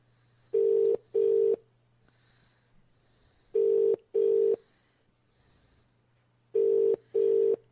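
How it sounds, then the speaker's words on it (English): Ringback tone of an outgoing Skype internet call, a steady electronic tone sounding in paired bursts that repeat three times with pauses between, clear and alone. "Oh, it's ringing, so that's good."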